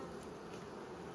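Honeybees buzz at an opened, queenless hive during an inspection, a dense, steady hum of many insects close by with no talking.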